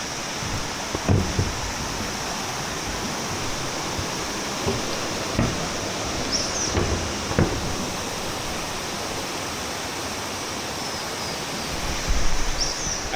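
A canyon waterfall in Chiapas, Mexico, pours as a steady broadband roar that fills the scene, constant and fairly loud, with a few faint knocks and scuffs on top.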